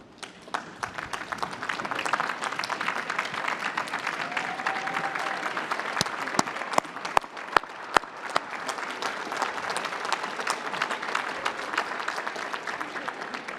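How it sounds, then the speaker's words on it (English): Sustained audience applause in a large hall after a call for immigrants to stand, broad even clapping with a few sharp close claps standing out partway through. "I applaud you"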